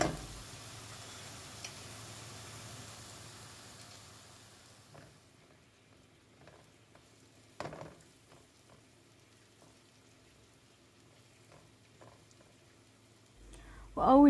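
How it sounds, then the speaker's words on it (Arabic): Two large onions and four cloves of blended garlic fry in ghee and oil on the stove, with a soft sizzle at first that fades to near quiet, broken by occasional clicks and kitchen clatter. "احطهم على النار وافضي فيهم بصلتين كبار ومعاهم 4 فصوص ثوم مطحونين"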